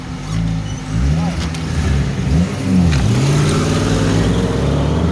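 A turbocharged Lada Niva accelerates hard in a race against a Lincoln Navigator, its engine revving up and down through repeated rising sweeps, loud and close throughout.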